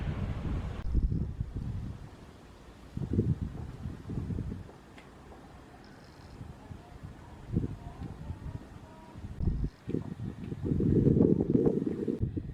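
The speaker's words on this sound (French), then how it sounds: "Il y a du vent, désolé" Gusty wind buffets the microphone outdoors on steep hillside paths in Bosnia-Herzegovina, coming in loud low rumbling bursts that swell and drop repeatedly, strongest near the end.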